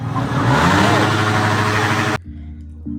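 A vehicle engine revs loudly at an early-morning motor show around New Year, a close, sustained roar with rising pitch that cuts off abruptly, leaving a lower idle rumble and a brief blip at the end.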